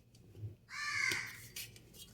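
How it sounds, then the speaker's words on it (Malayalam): A crow caws near a home where cake is being cut: one short caw around mid-clip, then a fainter follow-up call, with no voices over it. "കാക്ക കരയുന്ന കേട്ടില്ലേ?"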